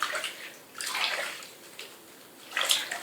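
Water splashes and runs while a ferret is rinsed in a bath, in three uneven bursts of spraying and sloshing with quieter gaps between, close by and with no talking.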